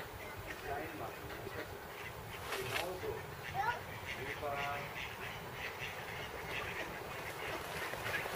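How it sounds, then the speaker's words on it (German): Ducks in the Spandau forest quack while people feed them bread, several short calls rising mid-clip over steady outdoor background noise, with people talking quietly nearby. "Ja, Brot füttern und zack, sind sie alle da, die Enten."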